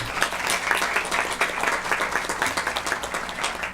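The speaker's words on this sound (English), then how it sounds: "Let's give them a round of applause." A crowd applauding steadily, dense clapping that holds at an even level throughout with no break.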